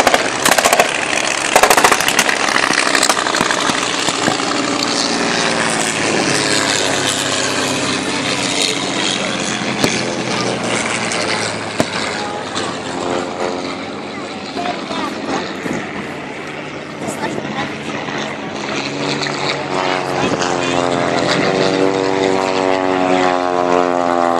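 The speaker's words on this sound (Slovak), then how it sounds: "Vidíte krásnu operáciu na nebi, lietadlá sa strieľajú." Droning propeller warplane engines roar continuously in an aerial dogfight, with rising and falling pitch as planes swoop past, loud and close throughout, with bursts of gunfire mixed in.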